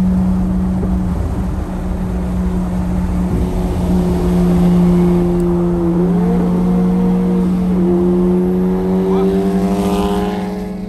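A Honda Type R car passes nearby on a road, heard from inside another car as a loud, steady engine drone whose pitch bends and climbs as it accelerates, with no talk over it.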